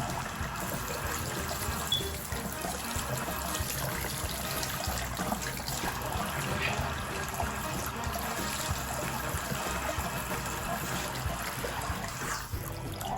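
Hot tap water runs steadily over a Thomas toy train engine, a continuous trickling and splashing stream that holds an even level from start to finish with no voices.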